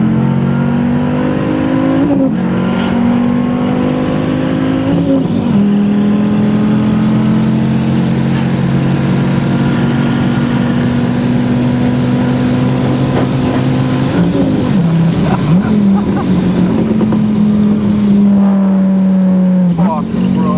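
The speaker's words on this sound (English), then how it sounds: "First gear with nitrous, traction off" A supercar accelerates hard in first gear on nitrous with traction control off, its engine a loud, sustained droning roar that rises and shifts pitch several times and fills the whole stretch.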